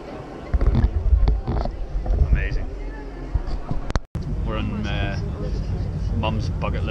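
A boat cruising on the Bosphorus in Istanbul, its steady engine rumble and wind noise running throughout under a person talking, with a brief dropout midway.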